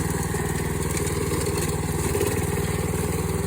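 A lawn mower engine with a steel cable fitted in place of the blade runs at a steady, loud idle, its rapid even firing pulses continuous throughout with no one talking.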